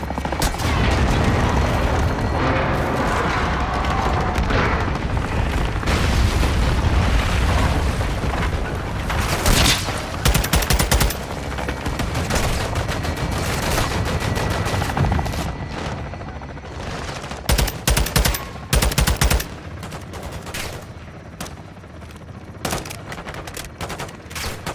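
Heavy, sustained bursts of belt-fed machine gun fire in the video game Modern Warfare 2, loud and continuous with booming impacts, then breaking into choppier bursts near the end.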